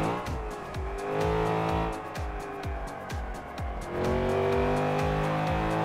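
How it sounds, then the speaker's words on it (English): A Nissan Skyline B-class build in Forza 5 revs hard at full throttle, the engine note climbing repeatedly through quick gear changes with a brief tire squeal, loud and steady with no talk. "See, that was full on the throttle before we even got around that corner."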